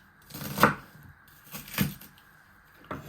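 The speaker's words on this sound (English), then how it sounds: "And then you chop it even finer if it hasn't gone all the way through your knife" A knife chopping pork and chorizo sausage-roll filling finely on a board, three soft, close thuds spaced about a second apart with light scraping between, fairly quiet, with no talk.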